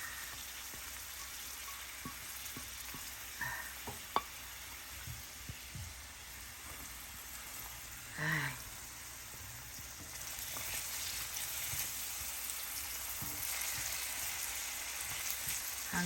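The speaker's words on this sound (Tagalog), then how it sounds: "So, mainit na yung mantika. So, ilalagay natin yung sibuyas at bawang." Onion and garlic sauté in hot oil, a soft steady crackling sizzle like light rain, with a few clicks and clatters of utensils over the continuous frying hiss.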